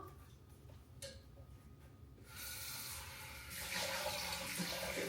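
Tap water runs steadily into a container in a home kitchen, filling it for a slow cooker, growing louder and fuller partway through with a faint ticking behind.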